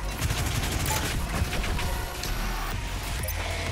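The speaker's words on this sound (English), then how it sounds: "Micro missiles." Micro missiles firing in DOOM Eternal: a rapid, loud volley of sharp bursting shots and blasts, packed closely together over heavy game noise.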